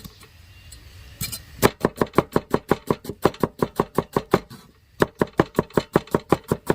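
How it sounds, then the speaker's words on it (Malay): A knife slices onions on a cutting board in a home kitchen, a fast, even run of sharp close taps, roughly twenty strokes, with a brief pause before the chopping resumes. "Kita hiris bawang ni"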